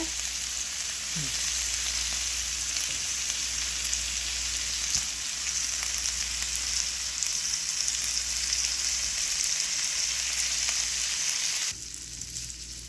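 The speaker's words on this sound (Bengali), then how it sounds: "এভাবে করে উল্টিয়ে উল্টিয়ে ভাজতে হবে" Skewered chicken shashlik pieces frying in oil and being turned over, giving a constant loud sizzle with faint handling clicks before the sound drops lower near the end.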